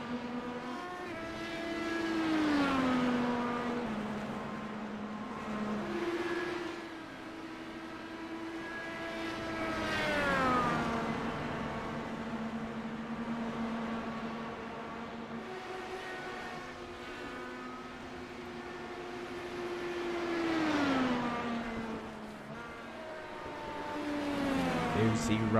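IndyCar race cars in a racing video game scream past in repeated high-revving passes, engine pitch rising and then dropping sharply as each car goes by, with a continuous loud drone between the passes.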